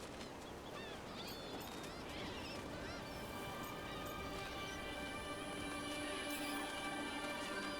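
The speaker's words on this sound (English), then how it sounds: "Look at you, feeding the birds." Flock of birds squawking and honking while being fed in the video game Dragon Age: The Veilguard, a dense, continuous chorus of duck- and goose-like calls, loud and steady throughout with no talking.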